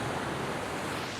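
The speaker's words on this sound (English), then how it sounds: "when the big waves crash, there's like a little mini waterfalls coming through" Ocean surf crashes against rocks in a bay, a dense, continuous roaring wash of water that stays loud and even throughout the brief moment, with no voices.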